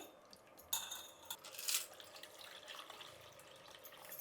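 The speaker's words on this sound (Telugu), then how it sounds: "ఇందులో నీళ్ళు పోసి పక్కన పెట్టేద్దాం." Quiet splashing and trickling of water poured into a bowl of washed tamarind to soak, with a brief clatter of a utensil, close and soft.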